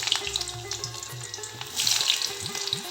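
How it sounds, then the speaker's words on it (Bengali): Pieces of raw jackfruit hit hot oil in a pan and sizzle steadily, a close, bright hissing crackle that swells partway through. "এবার ওই তেলের মধ্যেই এঁচড়গুলো দিয়ে দেব"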